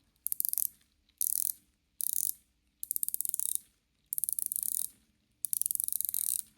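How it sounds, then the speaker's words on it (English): A Seiko GMT Pepsi watch bezel being turned, giving six quick bursts of crisp, fine ratchet clicks, each a rapid run of tiny ticks, with short silent pauses between turns. The clicks are close and fairly quiet. "let's check the sound from the bezel"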